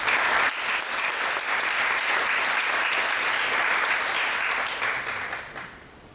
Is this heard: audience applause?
yes